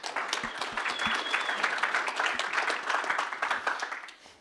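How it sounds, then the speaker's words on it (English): A conference audience claps for the panelists at a panel discussion, a dense and sustained round of applause from many hands that rises quickly, holds steady and fades toward the end. "So a quick round of applause for our panelists, please."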